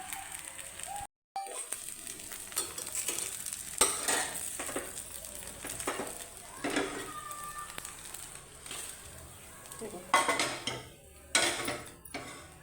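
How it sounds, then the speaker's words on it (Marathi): Small puffed-rice dosas roast in a little oil on a pan, giving a soft, steady sizzle with occasional scraping and stirring clicks, close by and with no talking. "असे छोटे छोटे कमी तेलावर भाजून घ्यायचं"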